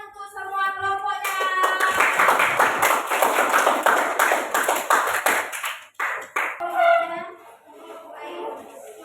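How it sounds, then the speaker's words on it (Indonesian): Students in a classroom clap for a presenting group, a burst of close, rhythmic hand claps that fades out, with voices talking before and after. "Kasih tepuk tangan untuk kelompok 4"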